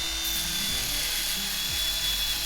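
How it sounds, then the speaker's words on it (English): A belt grinder takes a little metal off a part for a snow cat repair, giving a steady, loud, continuous whirring grind with a high whine that runs unbroken from start to finish. "I'm just gonna take the belt grinder and gently take a little bit off"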